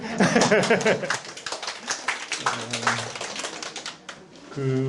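A small audience at a Korean school-curriculum information session claps in a scattered, light patter, with someone talking intermittently over the claps and soft laughter.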